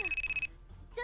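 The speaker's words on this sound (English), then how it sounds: "the cell phone's ringing" A cell phone rings faintly with a steady electronic tone for about half a second, then a short higher ringing chirp returns at the end, low in level against background noise.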